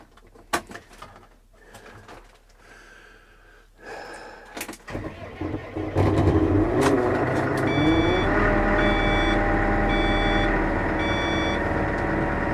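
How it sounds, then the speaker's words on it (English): A heavy Claas Arion 470 tractor engine cranks and roars to life after a few knocks and clunks, settling into a loud steady idle with intermittent high beeping. "I do not need to press the clutch to start this tractor"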